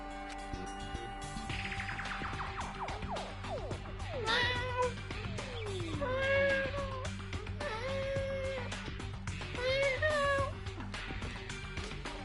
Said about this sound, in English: Did you fucking hear the cat?